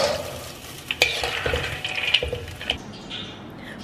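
Peanuts fry over low heat for pecal sauce: a soft, steady sizzle with scraping and clinking as they are stirred in the pan, fairly close.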